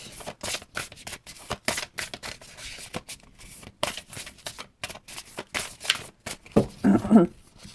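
Tarot cards are shuffled in quick papery riffles and flicks, a steady run of sharp slaps and rustles, close and fairly loud. A few fuller bursts come near the end, and no one speaks.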